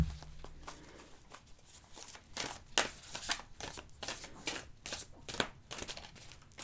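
Tarot oracle cards being shuffled by hand: repeated quick riffling and sliding swishes in uneven bursts, close and fairly soft, with no talking.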